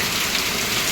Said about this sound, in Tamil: இந்த பக்கம் வேறு மழை காற்று இந்த பக்கம் அடிக்கிறதுனால